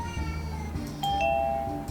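In the video game Bell Madness a doorbell chimes twice with bright tones over a background of game noise.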